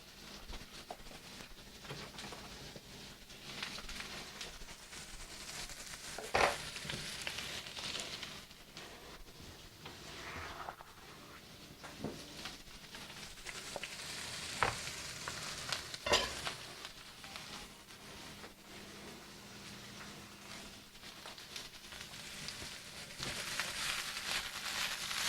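Onions and jalapeno frying in a pan for a morning steak hash, a steady sizzle running throughout with occasional louder pops and crackles and scraping stirs, no talking.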